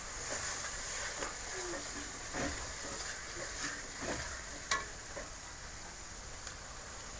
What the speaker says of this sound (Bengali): সব মশলা দেওয়ার পর একটু ভাজা নিব মশলাটা